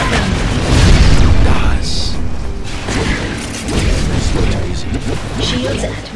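A deep booming weapon blast rumbles through Cars 2 video game play, with heavy low impacts and crackling bursts mixed under a character's speech.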